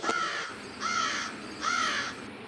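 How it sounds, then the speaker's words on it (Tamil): A crow caws three times in an evenly spaced series, harsh and fairly close, with a quiet background between calls. "என்ன காக்கா சத்தம் போட்டுக்கிட்டே கிடக்கு?"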